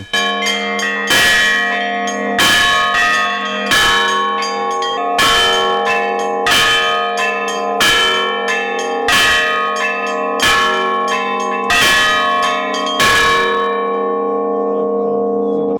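Church bells ring out loud and close in a steady, repeated pattern of about a dozen strikes, each leaving a long ringing decay, at a bell-ringing festival in Volyn, Ukraine.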